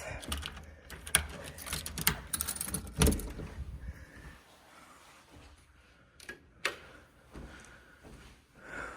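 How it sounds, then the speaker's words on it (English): Keys jangle and clink in a leasing agent's hands around an apartment office, close and clattery in irregular bursts, loudest early and then quieter with a few sharp clanks later. "I got the keys"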